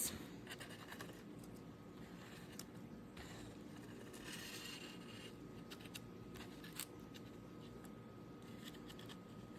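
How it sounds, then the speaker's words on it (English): Pencil drawing an ellipse on paper around two push pins with a string loop, a faint, continuous scratchy scraping with small taps, quiet and close, no talking. "I'm gonna repeat this process to draw an ellipse."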